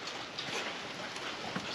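Steady rain falling in Florida, a broad even hiss of drops on surfaces with scattered patters, moderately loud and continuous with no voices.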